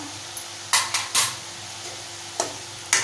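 Spoon scraping and clinking against a pot while masala spices are stirred into a drumstick, brinjal and potato curry, a few sharp metallic knocks spaced apart over a quiet background.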